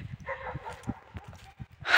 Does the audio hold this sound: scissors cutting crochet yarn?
no